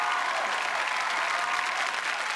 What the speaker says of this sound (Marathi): आणि जोरदार टाळ्या या मालिकेचे दिग्दर्शक विनोद लवेकर यांच्यासाठी झाला पाहिजे